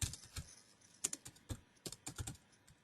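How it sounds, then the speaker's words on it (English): Typing on a computer keyboard, a run of quick irregular key clicks with short pauses, close and fairly soft in a quiet room. "So just do my typing."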